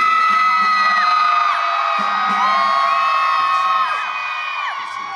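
Concert crowd at a year-end 2023 countdown festival show cheering and whooping loudly, a sustained wall of high shouts and screams with rising and falling voices throughout, fading slightly toward the end.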